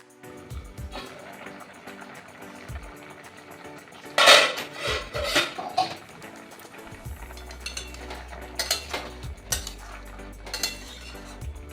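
A lid set onto a pot of boiling young jackfruit, with a loud metallic clank and rattle of lid against pot followed by scattered lighter clinks, close and fairly clear against a quiet room.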